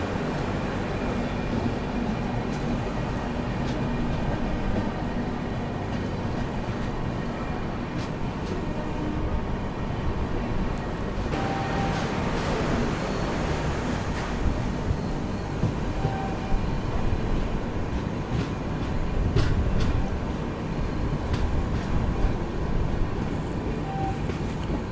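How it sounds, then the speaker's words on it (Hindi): The Karnataka Sampark Kranti Express (12650) runs through Gadwal Junction without stopping, giving a continuous rumbling wash of rail noise for about twenty-five seconds, with rattles and a brief swell partway through and no talking. "ट्रेन अपनी स्किप कर रही है गढ़वाल जंक्शन पे।"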